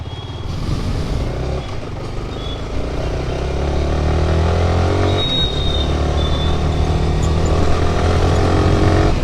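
A Yamaha R15 V4 motorcycle rides through city traffic, its engine droning steadily and loud up close, rising slightly in pitch as it gets under way, with a brief horn-like tone mid-ride.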